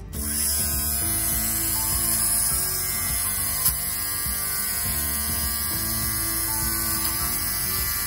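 Electric shaver shaving pills off a garment, a steady droning motor hum with a faint high whine, continuous throughout with one small click near the middle.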